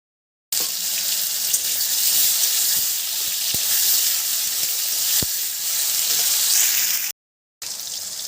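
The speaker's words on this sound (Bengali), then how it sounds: "তেল গরম হয়ে গেছে আপেলগুলো ভেজে নেবো এবার" Apple pieces hit hot oil and fry, giving a loud, continuous hiss that runs nearly unbroken for several seconds and cuts out briefly near the end.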